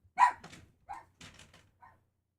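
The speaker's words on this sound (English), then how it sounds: "My dog." A dog barks a few times from a short distance, sharp separate yaps spaced across two seconds, fairly quiet with silence between them.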